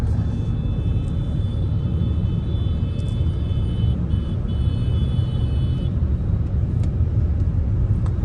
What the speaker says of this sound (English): It is a diesel car and it revs beautifully